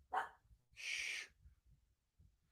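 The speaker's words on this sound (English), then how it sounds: "Puppies in the studio." Puppies in a studio give two short, high yips about a second apart, fairly faint over a quiet room.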